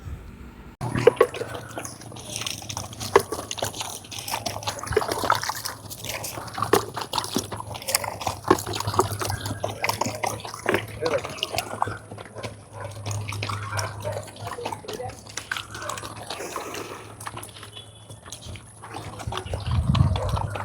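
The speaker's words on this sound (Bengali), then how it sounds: "সেটা হচ্ছে ওদের খাওয়ার শব্দ ওরা এত তৃপ্তি করে খায়" Animals eating their food at an animal welfare shelter, a steady run of wet chewing, lapping and crunching sounds, fairly close and continuous, with a low constant hum underneath and no talking.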